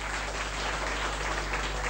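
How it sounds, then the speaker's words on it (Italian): A studio audience at a 1979 Italian television game show applauds in a steady, dense wash of clapping that holds evenly for about two seconds, with no voices over it. "auguri con un applauso anche da parte del pubblico"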